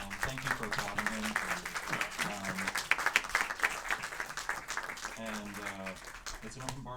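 Audience clapping for an assistant editor after a film screening and Q&A in a venue, with moderate steady applause mixed with talking voices throughout.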